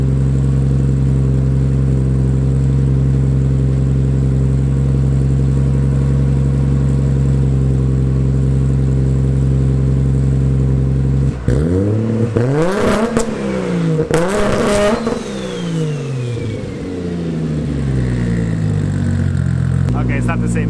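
Nissan S14 240SX with an RB25 engine and a standalone ECU idling loudly and steadily, then held against launch control with repeated revs and crackling pops from the exhaust.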